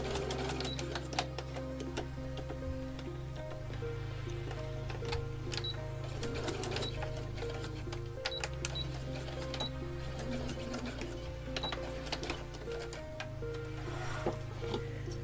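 Sewing machine stitching the seam of a knee-high doll sock, a steady fast mechanical whir with rhythmic needle ticking that runs continuously at close range, pausing briefly and restarting a few times.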